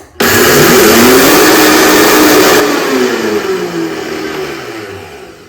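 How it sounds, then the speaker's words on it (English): A high-speed blender grinds oats into flour, a loud, steady whirring roar that starts abruptly, runs for a few seconds, then eases as the motor slows. "I'm gonna blend it up until they're a nice fine powder"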